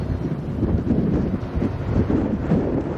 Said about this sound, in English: Little bit of wind.